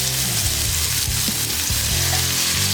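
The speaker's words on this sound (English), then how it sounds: "We need to sear some tuna, so let's get this tuna searing going on." Tuna steaks searing in olive oil in a hot pan give a loud, steady sizzle and crackle throughout, with repeated clunks and scrapes of a utensil or pan movement beneath it.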